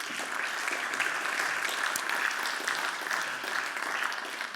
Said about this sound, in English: So a big round of applause to all 4 of them as well.